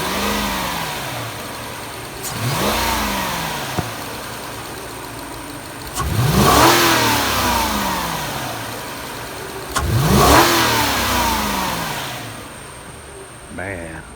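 A Lexus LS or ES engine idles steadily and is revved three times in a row, each rev rising and falling back to idle, close by in a driveway on a cool morning.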